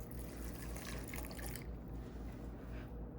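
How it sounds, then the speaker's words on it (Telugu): Water poured into a bowl of chopped vegetables and soaked peas for pav bhaji, a steady close trickling pour that eases off after about a second and a half into a quieter, lingering wash. "ఈ బౌల్ అంతా వాటర్ వేస్తున్నాను ఇందులో."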